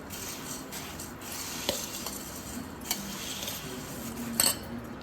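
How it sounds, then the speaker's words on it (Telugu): Bhel puri being mixed with lemon juice in a bowl: a steady, soft rustle and scrape of a spoon stirring the puffed rice, with an occasional light clink against the bowl. "two table spoons of lemon juice mix చేసుకోవాలి మంచిగా"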